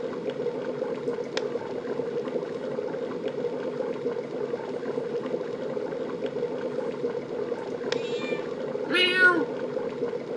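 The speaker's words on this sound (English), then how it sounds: "Cripes, this place is crawling with cats." Cats meow in the Fable video game, with a faint high cry early on and a clear, close meow near the end over a steady low background hum.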